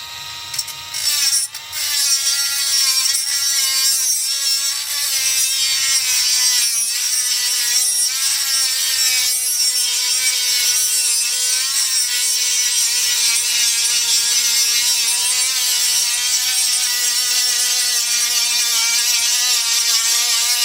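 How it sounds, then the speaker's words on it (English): A high-pitched Dremel rotary tool grinds continuously on a metal rivet head on a toy tractor, a loud steady whine with a brief stutter near the start, no voices. "we got to take a Dremel tool and grind the head of that rivet off"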